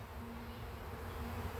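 Honeybees from a new swarm in an opened hive hum steadily, a dense continuous buzz filling the air throughout without pauses or voices.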